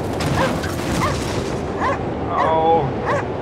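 Short yelping barks from a dog in the Cryostasis video game come in a few uneven bursts over a continuous rumbling ambience, with a brief whine near the end.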